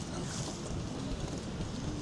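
Steady wind gusting beside the River Mersey, a continuous broad rushing roar buffeting the microphone, with no voices.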